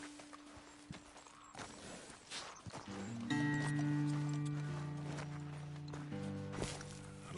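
Horses walking slowly on a road in a western video game, soft hoof clip-clops under ambient game sound, with a sustained musical drone swelling in partway through.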